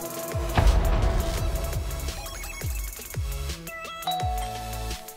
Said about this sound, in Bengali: বিকেল 5টার দিকে কলিং বেল বেজে উঠল।